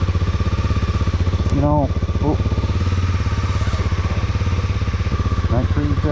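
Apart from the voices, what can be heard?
Honda CB300R motorcycle engine starting and idling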